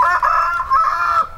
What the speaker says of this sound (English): The roosters make a lot of noise, don't they?